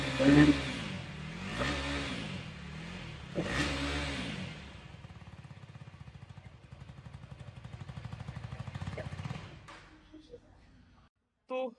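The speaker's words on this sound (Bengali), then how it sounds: "তো এই ছিল এই বাইকটার এক্সস্ট নোটটা।" A 2024 Husqvarna Vitpilen 250 motorcycle's exhaust revs sharply up and down three times close by, then settles into a rapid, even idle putter before cutting out.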